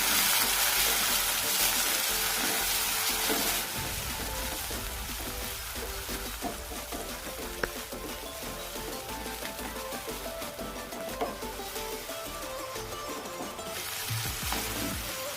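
Chopped tomatoes fry with softened onion in a pan for a sprouted moth bean curry, giving a loud, steady sizzle that hushes slightly after the start and carries on, with occasional faint stirring clicks and no talk.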